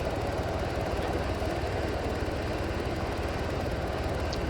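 A helicopter in the military video game ARMA runs nearby, its steady rotor thump and engine whine droning loudly and evenly without a break.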